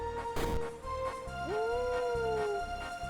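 A dog's bark skill in Dragon Warrior VII comes through as a drawn-out howling yowl with rising, wavering pitch, set over looping game music with a steady beat, no voices present.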